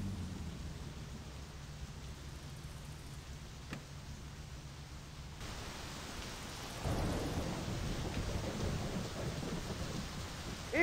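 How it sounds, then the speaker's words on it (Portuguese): In the video game My Summer Car, rain hisses steadily while a rumble of thunder rolls through, the downpour growing heavier in the second half. "A chuva voltou"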